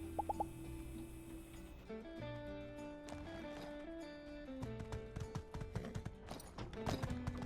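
Horse hooves clip-clop in a steady rhythm in the video game My Time at Sandrock, over game music with tonal chimes and notes, fairly faint and close.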